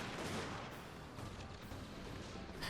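Unit gunfire in the strategy game Fall of the Samurai, a dense, continuous crackle of massed musket or rifle volleys and distant cannon rumble, steady and noisy throughout with no voices.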